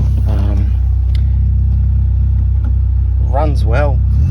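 A 1994 Peugeot 405 Mi16 engine runs steadily with a strong low rumble, while a person talks briefly over it near the start and again near the end.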